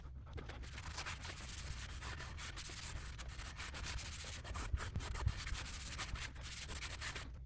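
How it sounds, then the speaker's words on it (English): Beeswax and mineral oil rubbed by hand onto a sanded maple cutting board, a steady close scratchy rubbing that continues throughout with no talk. "Now it's time to apply a little bit of beeswax and mineral oil."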